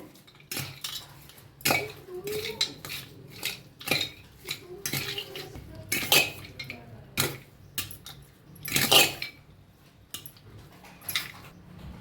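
A spoon clinks and scrapes against a bowl as lemon juice, mint and coriander are mixed into a raw mango side dish, with a steady run of sharp, close metallic taps and scrapes, and no talking.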